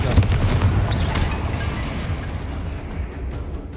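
A booming fire-blast explosion from the Confringo spell in Hogwarts Legacy hits loud at the start, then rolls off into a fading rumble over a few seconds.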